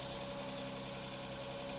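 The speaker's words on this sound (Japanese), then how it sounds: "エンジンの方も、特に変な音もせず、アイドリングもね、落ち着いてるという感じです" A 2019 Nissan GT-R NISMO engine idles steadily and smoothly, humming evenly throughout with a low, constant drone and no other sounds.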